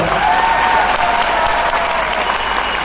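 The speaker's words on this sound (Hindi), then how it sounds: "तो अपने सीनियर लीडर्स और मैनेजमेंट के लिए जोरदार ताली हो जाए नए लोग" Loud, steady applause fills a Nagpur MI Lifestyle company program hall, cheering senior leaders and management; dense clapping continues unbroken with a faint crowd murmur underneath.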